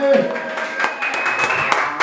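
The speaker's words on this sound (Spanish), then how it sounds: "de nuevo fuerte el aplauso para Marcela, que se escuche" Scattered clapping for Marcela at a mariachi birthday serenade, with individual claps under voices and faint sustained tones.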